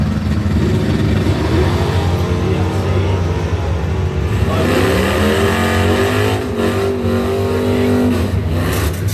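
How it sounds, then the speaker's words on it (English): Chevrolet Camaro launching in the right lane at a Ford-themed bracket drag race, engine loud and close, revving hard then climbing through rising pitch sweeps as it pulls away. "Here's Mark Smith trying for a 662 with the Camaro taking on right lane."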